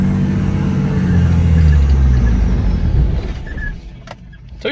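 A Nissan GQ Patrol crawls slowly up a sand hill, its engine a steady low drone that swells slightly and then fades away, ending with a couple of sharp knocks.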